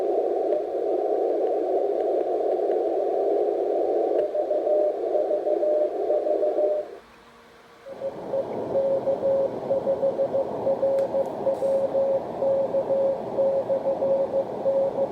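A steady shortwave radio tone plays through Rockwell Collins HF-2050 and AEG Telefunken E800/2 receivers tuned to the same signal. It holds for several seconds, breaks off briefly, then returns with a slightly different, noisier character.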